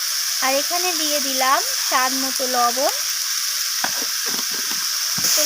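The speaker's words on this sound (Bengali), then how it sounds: "তো আদা আর রসুনটাকে দিয়ে আমি আবারও সবজির সাথে এইভাবে কষিয়ে নিচ্ছি।" Mixed vegetables with radish, kohlrabi, cauliflower stems, small shrimp, ginger and garlic sauté in a pan with a steady sizzle throughout, while someone talks over it.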